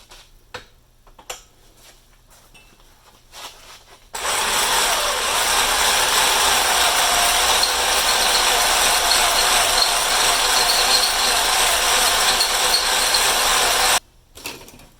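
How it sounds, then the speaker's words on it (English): A drill turns a large bit slowly: a steady, loud mechanical grinding whir runs for about ten seconds after a few faint clicks, then cuts off abruptly; no voices. "This drill gives me the ability to turn it a lot slower and not burn up the bit."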